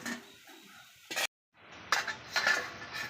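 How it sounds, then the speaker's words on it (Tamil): A plate set down as a lid over a cooking pot of salted meat and rice, giving a short clattering clink of dishware, then a brief silence and soft kitchen clatter after. "நம்ம தட்டு போட்டு மூடி வச்சிடலாங்க கறி வேகணும்"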